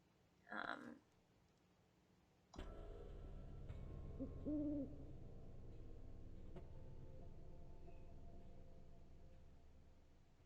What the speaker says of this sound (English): we heard that owl as well